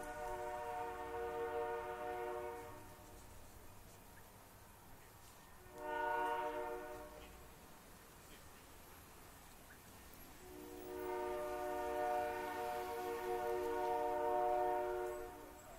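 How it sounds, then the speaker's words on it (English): A distant train sounds its horn for a level crossing: a long blast, a short one, then another long blast, mellow and reverberant over a low background rumble. "in the far distance, we hear the L14 whistle, the signal for a level crossing, long, long, short,"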